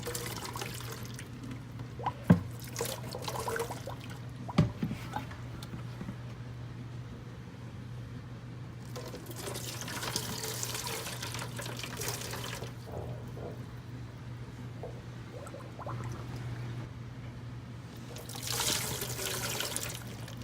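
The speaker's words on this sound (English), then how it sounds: "pour the boiling water on the empty bottles and see if there's any reaction" Boiling water poured onto empty plastic bottles in a food packaging and polymers lab, a steady splashing trickle with a couple of sharp knocks early on, then two later louder pouring spells over a low background hum.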